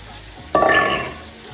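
Mushrooms hit a hot pan for sautéing, setting off a sudden loud sizzle that flares up and fades within about half a second, heard alone.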